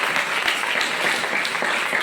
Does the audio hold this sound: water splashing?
no